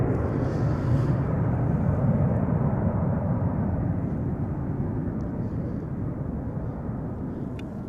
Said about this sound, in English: another airplane that promises to get loud. Already spooling up